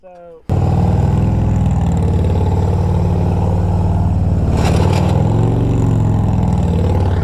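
A big motorcycle engine revs hard and holds a loud, sustained roar during a stunt, cutting in suddenly after a short quiet moment and staying steady close to the microphone.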